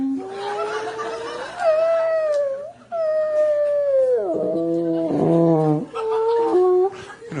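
A voice imitating whale calls with long, wavering moaning and howling tones that slide up and down, broken by short pauses and a brief laugh-like burst, loud and close.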